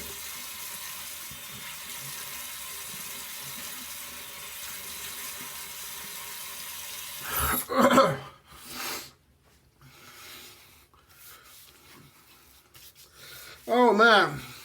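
A faucet runs with a steady hiss, then water splashes in short bursts as a face is wetted before shaving, followed by a quieter stretch and one more splash.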